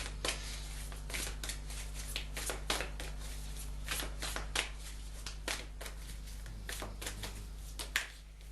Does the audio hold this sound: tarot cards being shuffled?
yes